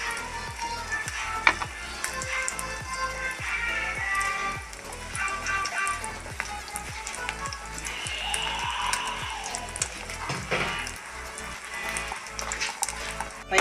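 An egg sandwich fries in a pan with a steady, close sizzle, broken by repeated scraping and clattering strokes as it is stirred or turned.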